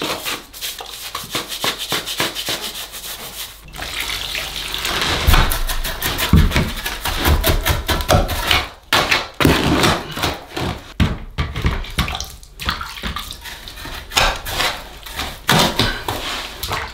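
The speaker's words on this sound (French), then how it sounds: "Donc on prend une balayette, on trempe dans l'eau et puis on vient humidifier les briques" A hand brush dipped in water scrubs and wets an old brick wall during a studio renovation, giving steady close rubbing and scraping strokes with occasional knocks, with no talking.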